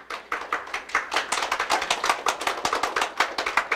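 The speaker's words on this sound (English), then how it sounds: "A round of applause for the engineers once again." Modest audience applause for engineering students at a capstone project presentation session, a small group clapping in quick, distinct claps that sound close and steady throughout, with no talking.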